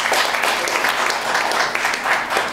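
Studio audience at a late-night conspiracy talk show breaks into steady, loud applause, a dense wash of clapping that holds evenly for a couple of seconds.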